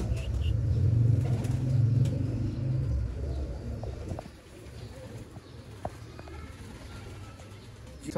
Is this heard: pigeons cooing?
yes